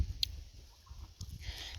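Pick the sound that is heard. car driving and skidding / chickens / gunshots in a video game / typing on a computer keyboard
chickens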